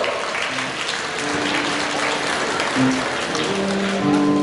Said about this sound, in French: Vous pouvez encore les applaudir bien fort.